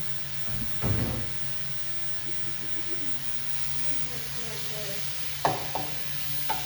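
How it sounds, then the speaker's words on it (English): Steady sizzling as tri-tip beef stir-fries in a pan, with occasional scraping and clanks of a utensil stirring, while a voice talks faintly in the background. "So I'm just stir frying it."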